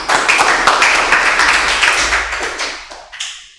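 A classroom audience bursts into dense, close clapping that holds steady for a few seconds and then thins out and fades.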